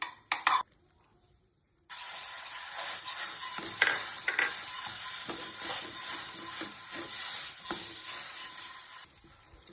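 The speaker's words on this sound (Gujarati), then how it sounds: "તો આ અંજીર છે તે અંજીરને આપણે પહેલાં શેકી લઈશું ઘીમાં" Figs roast in ghee in a pan with a steady close sizzle and occasional stirring scrapes, after a few brief clatters and a short quiet pause at the start.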